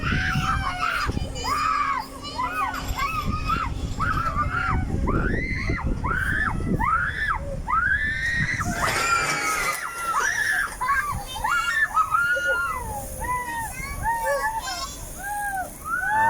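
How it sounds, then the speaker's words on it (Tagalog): Riders on an amusement ride scream and shriek together at close range, loud and continuous, with children's shouts and overlapping voices throughout. "At kahit sino siguro sumakay guys ay hindi mo mapigilang sumigaw."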